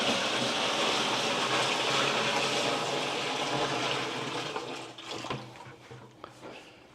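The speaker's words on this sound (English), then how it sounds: "Now I'm gonna add 3 gallons of water" Three gallons of clean water pour steadily into the brine tank of a Whirlpool Pro Series water softener, a loud rushing splash that fades and thins into trickles and drips.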